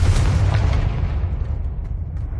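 A Confringo spell blast in a Harry Potter game erupts as one loud, close boom that rumbles and fades away over a couple of seconds.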